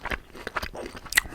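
Steak with onions and mushrooms being eaten up close, with soft wet chewing and crunchy bites coming in short bursts, and a sharper crunch near the end, with no talking.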